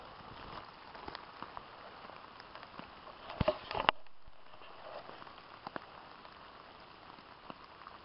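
Heavy rain patters steadily on a bivvy shelter in the dead of night, a dense continuous hiss with scattered louder drops and a brief sharper burst of impacts partway through, no voices.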